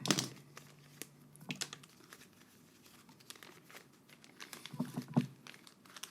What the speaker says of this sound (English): Having a hard time opening plastic right now.